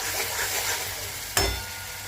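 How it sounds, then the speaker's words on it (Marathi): Grated fresh coconut sautés in ghee in a kadai with a constant close sizzle and soft stirring, broken by one sharp knock of a utensil against the pan, with no speech. "हे खोबऱ्याचं बारीक केलेलं घालून घेऊ आणि चांगलं परतून घ्यायचं तुपामध्ये।"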